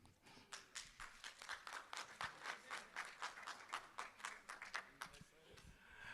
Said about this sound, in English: A big round of applause once again for them.